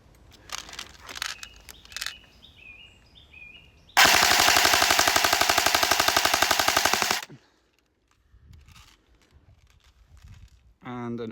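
An airsoft gun fires a rapid full-auto burst of BBs, a dense, loud rattle lasting about three seconds, with quieter handling noises before and after.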